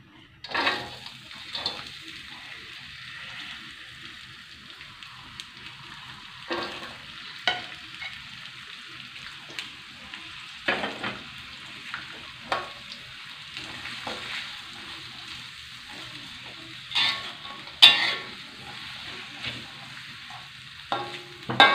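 Garlic and shallots stir-fry in a pan, a soft steady sizzle broken by repeated sharp scrapes and clinks of a spatula at irregular intervals, close and moderately quiet.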